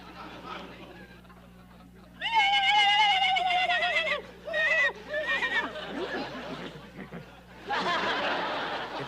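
A voice imitates a horse, giving a long wavering whinny followed by snorting, chuckling bursts and another high neigh-like cry.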